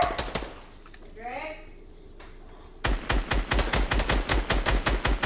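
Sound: gunfire in Fortnite video game

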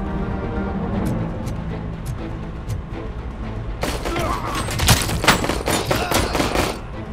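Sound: gunfire in RoboCop Rogue City video game

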